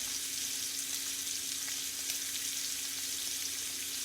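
Hanger steak searing undisturbed in a hot pan, giving a steady, close sizzle and crackle of frying that holds evenly throughout, with no talking.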